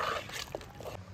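Hot water pours into a pot of mutton curry for about a second, a soft steady trickle and splash heard close up against a low background hum.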